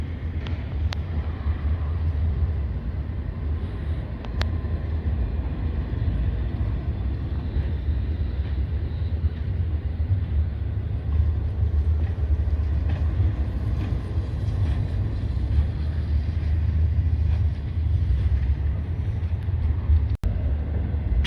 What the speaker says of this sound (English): Train is starting to move fast again